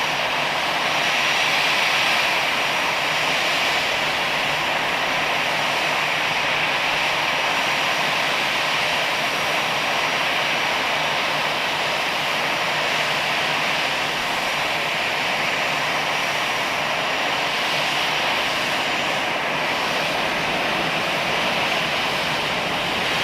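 A low-flying airplane passes close over open water, its steady broadband engine roar loud and continuous throughout with no break, a faint wash like surf blended underneath.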